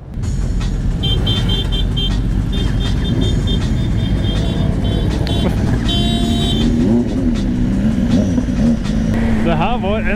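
A Suzuki motorcycle engine drones steadily and loud throughout a ride, with wind rush, rising revs near the end and people talking over it.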